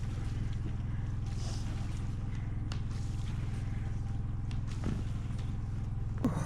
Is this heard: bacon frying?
no